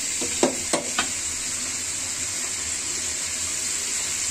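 Chicken curry with finely chopped tomato frying in a pan gives a steady, continuous sizzle, broken early by three quick stirring scrapes, with no talking.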